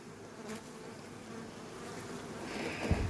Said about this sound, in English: And there's quite a few bees inside.